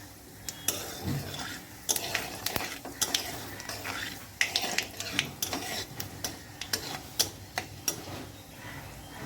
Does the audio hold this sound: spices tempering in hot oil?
yes